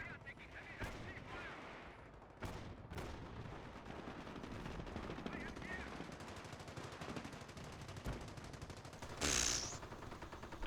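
Video game machine gun fire from American MGs in a shoutcast match, with bursts of rapid rattling shots amid ongoing battle noise, a sharp loud blast near the end, and quiet talk faintly underneath.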